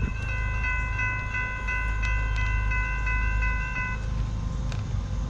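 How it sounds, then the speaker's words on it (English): A CSX freight train passes on the former Conrail Lehigh line, its multi-tone horn blaring steadily for about four seconds over a low continuous rumble of rolling cars. "This is the 8th train in less than 3 hours."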